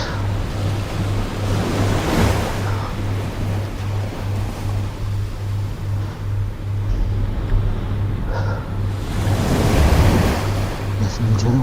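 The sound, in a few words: ocean waves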